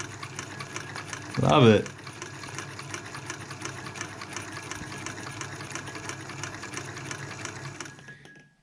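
An antique sewing machine runs with a steady, quiet mechanical whir and faint rhythmic ticking, a brief louder burst of handling noise early on and a short spoken remark.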